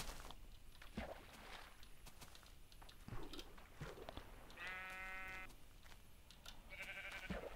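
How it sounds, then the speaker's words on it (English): Sheep bleating in Minecraft, a few harmonic bleats from a small flock heard briefly over soft ambient noise, one longer call followed by a shorter one. "Lots of sheep having a morning meeting."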